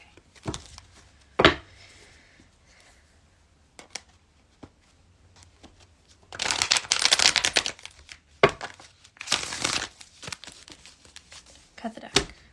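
A deck of reading cards gets a big shuffle, broadband riffling and crinkling bursts coming in two longer bouts amid scattered card taps and handling noises, close and fairly loud, with sparse talk nearby.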